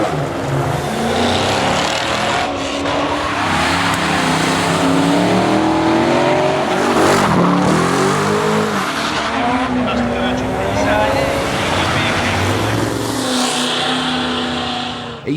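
At the Easternats street car event, cars skid in a dedicated lane with loud, continuous tyre squeal and revving engines rising and falling, heard up close alongside a voice talking over the noise.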